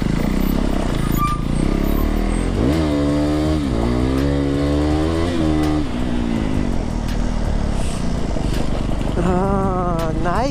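Motorcycle engine idling and revving at a shop after new tyres were fitted, a loud steady engine drone throughout with rising and falling rev sweeps near the start and again at the end.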